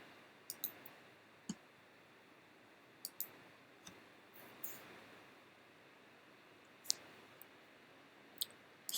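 Sharp mouse clicks from pressing an edit button and number buttons in an Android app demo, a handful of isolated ticks spread irregularly over a quiet background hiss.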